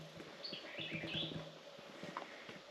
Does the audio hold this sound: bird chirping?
yes